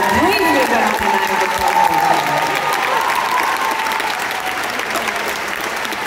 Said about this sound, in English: Huge round of applause for my friend.